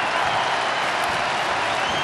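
A big crowd at a baseball stadium during a New York Mets vs Chicago Cubs game, roaring and applauding loudly in a dense, steady wash of noise.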